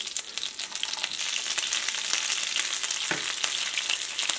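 Oil crackles and sizzles steadily in a hot pan as tacos fry in vegetable oil, a dense continuous frying hiss with no one speaking.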